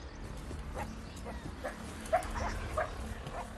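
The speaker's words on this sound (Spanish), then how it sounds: "En la India, los perros salvajes son llamados kuones." Dholes, Indian wild dogs, give faint, scattered yips and whimpers, with a couple of sharper calls standing out against quiet background noise.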